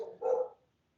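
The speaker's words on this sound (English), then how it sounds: "so you guys don't have to listen to my dog barking" A single dog bark, fairly close and loud, following a brief earlier sound, then quiet.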